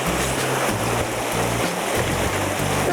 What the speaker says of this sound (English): you can tell that the stream is climbing in elevation and makes a nice little pool for them